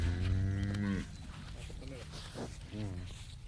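Dairy cows at a cattle sale near Davangere give a loud, close moo at the start, followed by a shorter, fainter moo near the end, with people talking and market bustle throughout.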